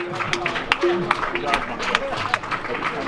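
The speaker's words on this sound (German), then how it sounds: "Ja, ein Applaus noch einmal." Audience applause at the finish event of the 2019 E-Cannonball electric car rally, a steady wash of clapping with several sharper claps, mixed with crowd babble and some talk.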